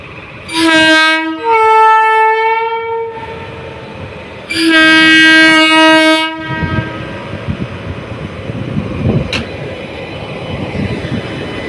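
Train at a railway level crossing sounds two long, loud multi-tone horn blasts close by, followed by the rumble and clatter of the passing cars.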